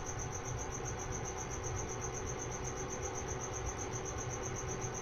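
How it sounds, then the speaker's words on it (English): A cricket chirps indoors in a fast, steady pulsing trill, evenly repeating throughout with a low background hum and no talking. "This thing is ridiculously loud. This cricket."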